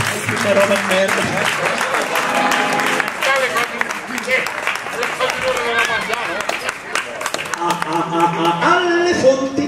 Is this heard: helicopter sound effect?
no